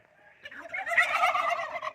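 A feathery chicken calls in a short, loud, rapid burst of warbling, gobble-like clucks that rises after a faint start, heard close and alone.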